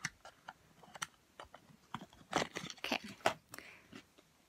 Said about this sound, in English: chewing on her nails, if you're wondering what that noise is